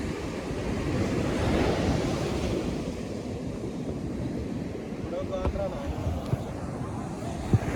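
Ocean waves washing onto a beach, a steady loud roar of surf mixed with wind rumble throughout.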